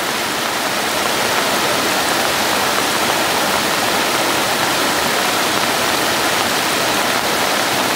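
Water rushes steadily down the Bhalu Khola stream at its source during the rainy season, a loud, dense, unbroken roar like a small waterfall, with no voices over it.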